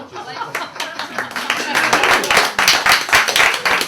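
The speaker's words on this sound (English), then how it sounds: "Oh, people are clapping." An audience claps after a card trick, a dense run of close hand claps that builds and stays lively, with talking over it.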